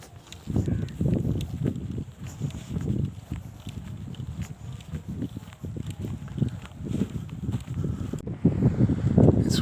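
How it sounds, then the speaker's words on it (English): Strong wind of about 30 mph buffets the microphone on an open golf course, a steady low roar with gusty swells and rumbling blasts that stay loud throughout and surge near the end. "Wind's blowing about 30 miles an hour. Very windy."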